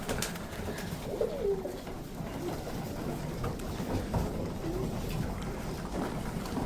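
Pigeons coo outdoors, giving soft low calls at moderate distance against a steady background murmur, with faint voices now and then.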